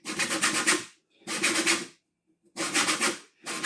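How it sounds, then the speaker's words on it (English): Orange zest grated from half an orange in a home kitchen while making chicken curry, heard as three close, steady bursts of raspy scraping with short pauses between strokes. "So then a zest from half an orange."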